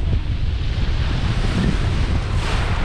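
Steady rushing sea surf with heavy wind buffeting the microphone, a continuous low roar throughout with no voices.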